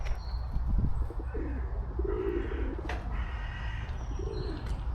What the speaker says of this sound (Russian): Зато очень много птиц.